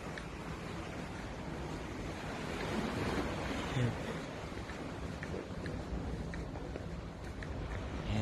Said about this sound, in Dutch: Hoort de zee.